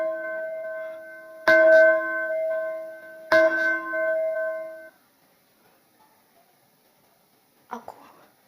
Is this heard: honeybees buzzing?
no